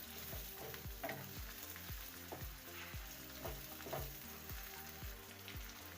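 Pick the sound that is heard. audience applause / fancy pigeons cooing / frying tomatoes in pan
frying tomatoes in pan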